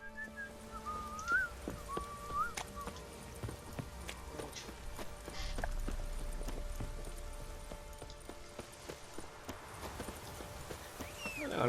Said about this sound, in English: Tengo el caballo.